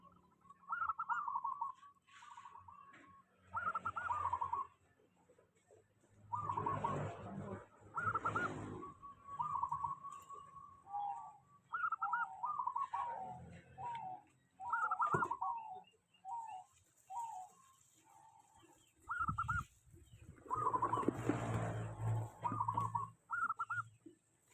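A local perkutut zebra dove named Rawit coos in repeated soft phrases, clear and close in a quiet setting, with pauses between bursts.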